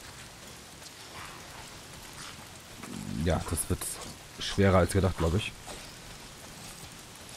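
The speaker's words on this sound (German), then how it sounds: "Mal sind's die Freaks und dann dieser verdammte Regen." Steady rain hisses through the Days Gone video game world in the background while someone talks over it in German, his voice rising louder toward the middle.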